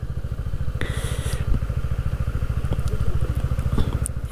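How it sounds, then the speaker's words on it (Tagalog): Several motorcycles idle together outdoors on a mountain ride stop, including a Kymco KRV 180cc, a loud, close, steady rapid putter with occasional clanks and scrapes over it. "Yan po yung mga motor ng tropa."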